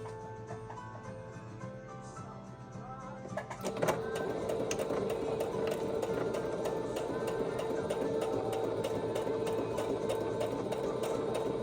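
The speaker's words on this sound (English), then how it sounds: "To do this part, I'm just gonna do the straight stitch" Straight stitching on a fabric journal cover, starting after a few seconds of quieter handling and settling into a continuous, even mechanical whir that runs to the end.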